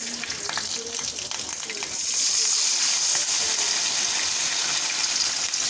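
Water poured into onion and ground spice paste frying in a wok, a steady sizzle swelling into a louder, hissing burst midway and holding there, close and continuous.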